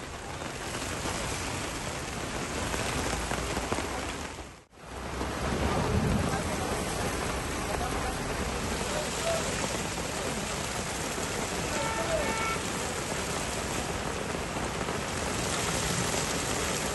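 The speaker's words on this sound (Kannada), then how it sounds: "ಇನ್ನು ಉಡುಪಿ ಜಿಲ್ಲೆಯಲ್ಲೂ ಸಹ ಧಾರಾಕಾರ ಮಳೆ ಸುರಿದಿದೆ" Heavy monsoon-style rain pours down in Udupi district during a thunderstorm, a loud, unbroken roar of falling water with one momentary cut partway through.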